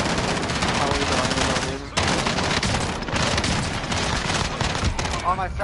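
Rapid automatic gunfire in a shooter video game, dense bursts of loud shots running almost continuously with a brief gap near the middle, while players talk over the shooting.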